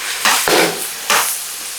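Beaten eggs with onion and tomato stir-fried in a hot pan, loud crackling sizzle that swells in two bursts as the spatula turns the mixture, close and busy with no voices.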